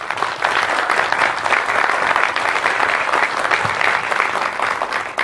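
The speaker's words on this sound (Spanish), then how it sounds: "Fuerte el aplauso a ustedes mismos." Sustained audience applause at a gathering of twelve Pueblos Mágicos communities in Tecámac, a dense, even wash of many hands clapping at steady loudness for about five seconds with no talk over it.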